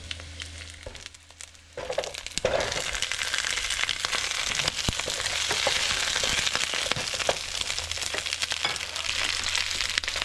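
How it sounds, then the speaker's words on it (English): Jalapeno peppers hit a hot pan with chopped garlic and sizzle loudly, a steady crackling fry with small spits and pops that keeps going without a break. "Saute for another minute or so. Put in the jalapeno pepper."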